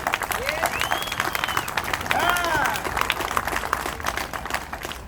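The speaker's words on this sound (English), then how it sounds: "everybody give them a clap" Audience claps for a band of musicians at an Easter commemoration in Scotland, a full burst of crowd applause with whoops and shouted voices rising through the middle.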